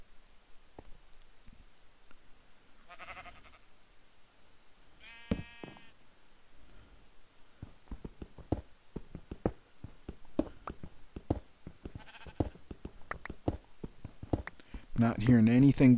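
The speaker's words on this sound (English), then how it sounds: "Not hearing anything but sheep right now" Sheep bleat a few times at moderate distance in a Minecraft UHC game, wavering calls spaced apart, among clicks, footsteps and scattered game sounds.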